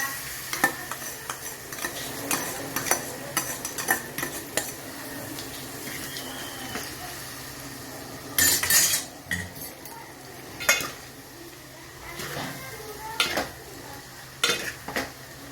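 Boiled noodles being stirred and tossed in a pan for Hakka noodles, with repeated scrapes and clinks of the utensil against the metal over a light sizzle, close and uneven in rhythm.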